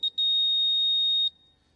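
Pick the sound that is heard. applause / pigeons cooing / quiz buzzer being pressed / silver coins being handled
quiz buzzer being pressed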